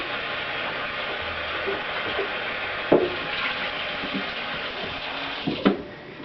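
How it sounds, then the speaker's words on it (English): Tap water runs steadily into the pulp bin of a centrifugal juicer during rinsing, with a few plastic knocks and splashes as the bin is moved under the stream. "then just simply rinse the pulp bin out"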